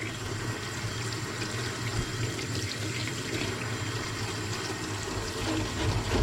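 Tap water runs steadily over a Velocette 500 four-speed gearbox component while dye is rinsed off it, a continuous close hiss and splash that swells slightly near the end, with no voices.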